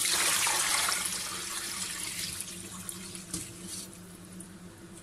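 Tap water runs steadily into a roomy pot holding pieces of free-range rooster drumsticks, a continuous close hiss of filling that eases slightly in loudness over several seconds, with no talking.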